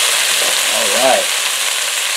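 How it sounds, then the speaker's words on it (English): Curry chicken made with boneless thighs cooks down in an Instant Pot, a dense, steady sizzling hiss close by with a brief faint tonal whine near the middle. "I'm going to let this cook down for about 5 minutes"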